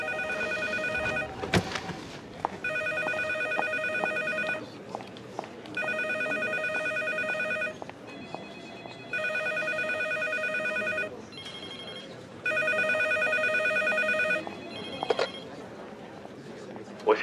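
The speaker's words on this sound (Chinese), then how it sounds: "梁斌，你电话在响。" A mobile phone rings indoors in an office, its electronic ringtone repeating in regular bursts with short pauses between them, fairly faint against quiet room tone.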